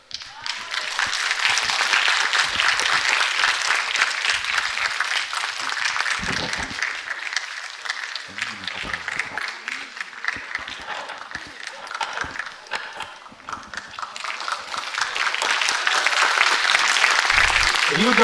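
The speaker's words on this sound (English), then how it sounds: "A huge round of applause, please." An audience at a stage ceremony claps in waves, the applause swelling, thinning around the middle with brief voices and rustle underneath, then building again toward the end.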